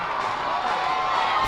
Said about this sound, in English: The Somerset Patriots chants